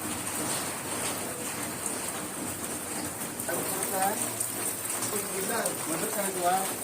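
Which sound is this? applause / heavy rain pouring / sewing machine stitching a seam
heavy rain pouring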